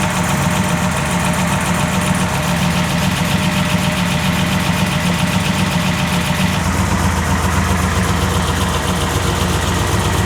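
Heavily modified 1000HP Foxbody car engine with a massive turbo idling loud and close, a rough steady rumble with lumpy pulsing and mechanical clatter that shifts in tone partway through.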